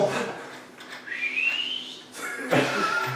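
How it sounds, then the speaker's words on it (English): A person whistles a short routine, a bright rising note sliding upward over about a second, then fading, followed by a breathy burst near the end; close and fairly quiet. "All right, I'd like to hear that whistle."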